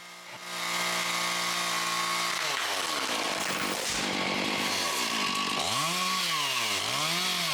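A chainsaw roars loudly and steadily throughout, its engine pitch dipping and rising as it bites into tree trunks and revs back up.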